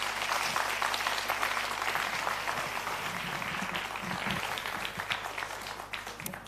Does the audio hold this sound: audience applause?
yes